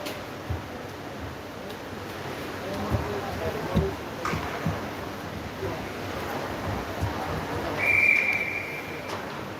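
A referee's whistle blows briefly near the end of a Dukes vs Buccaneers hockey game, rising over steady arena crowd noise and rink ambience, with commentators talking throughout.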